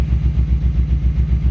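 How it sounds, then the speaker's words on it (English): A 1995 Camaro engine running with a straight pipe exhaust, giving a loud, deep, lumpy idle with a regular pulsing beat throughout the short stretch and no voices. "The engine, I mean, as you can hear,"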